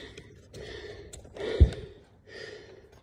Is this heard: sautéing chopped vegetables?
no